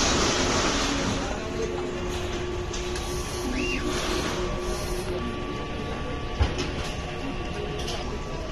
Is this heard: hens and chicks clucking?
no